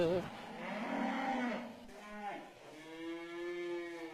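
Several cows moo in a farm barn stall, long low drawn-out calls close by, one after another with a brief gap near the middle, with no talk over them.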